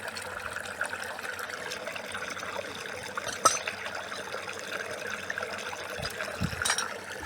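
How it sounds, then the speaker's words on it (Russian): Water gushes in a continuous rushing, splashing stream from hydro-drilling of an Abyssinian well on a high hill, a fairly faint outdoor wash of sound with a single sharp clank midway and a couple of low thumps near the end. "Как-то вот так вот идет бурение. Вот это струя!"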